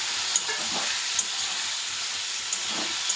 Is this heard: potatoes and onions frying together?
yes